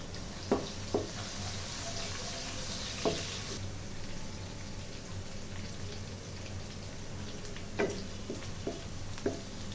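Chopped onion hisses in hot oil seasoned with fenugreek for a liver kala bhuna. The frying runs as a steady, moderate sizzle broken by occasional sharp stirring clicks.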